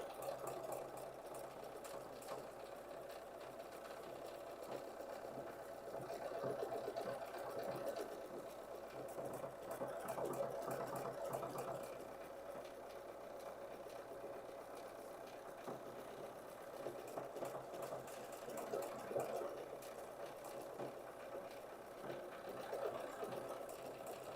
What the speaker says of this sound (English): So I'm just guiding the fabric, trying to let the machine do the work.